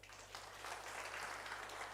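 A church congregation applauds during a sermon, a steady, moderately loud wash of clapping that holds evenly for two seconds with no talk over it.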